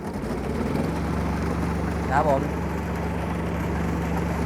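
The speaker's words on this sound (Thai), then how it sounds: "เดี๋ยวเราจะลองเร่งเครื่องดู" An old Japanese SR-J3 rice combine harvester's engine runs with a steady, loud mechanical drone and low hum close by, while someone talks over it.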